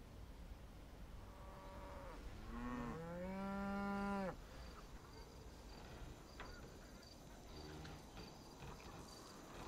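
Cattle in a stable give one drawn-out moo in the middle, fairly close and clear above a quiet, steady background with faint insect-like chirps and no speech.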